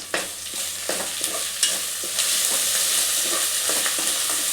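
Garam masala and coriander powder frying in a pan, a steady close sizzle broken by sharp spoon scrapes and stirs, with no talking.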